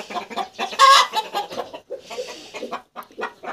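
A broody hen sitting on eggs near hatching clucks in close, irregular bursts, with short agitated calls broken by brief pauses.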